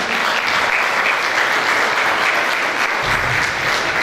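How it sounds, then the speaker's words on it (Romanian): An audience at a concert by a band from Covasint applauds, a close, loud wash of continuous clapping that holds steady throughout the short stretch. "s-au ocupat de acest lucru frații Angel, pe care vă rog să-i aplaudați."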